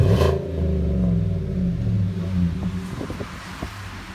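A 2018 Chevy Silverado 5.3 V8 with a Flowmaster Super 44 exhaust idles and briefly revs, its low, deep exhaust note pulsing, with a few clattering knocks toward the end.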